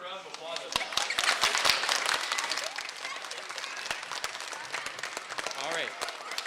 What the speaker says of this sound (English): Give the audience a round of applause